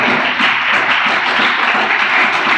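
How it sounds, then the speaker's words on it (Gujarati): An audience at a school ceremony honouring students for their exam results claps in loud, dense, continuous applause with no talking. "તાળીઓનો ગણગણાટ ચાલુ"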